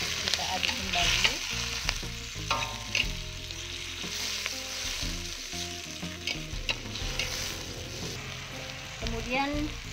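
Ginger, red chili and tomato frying and being stirred in a pan, a steady sizzle with scraping stirring strokes throughout, fairly close, with background music and no talk.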